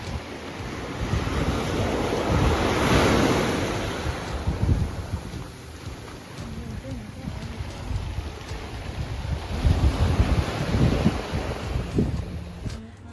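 Ocean waves wash and roll in near the shore on Paros, Greece, swelling and fading under gusty wind noise.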